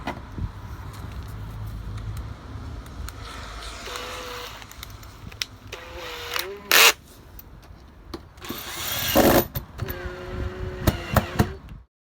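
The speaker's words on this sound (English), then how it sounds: "Now it's just a case of getting a screw through it as well." A power drill whirs in several short bursts while driving a screw into pallet wood, its pitch shifting as it bites, with clunks and handling noise between.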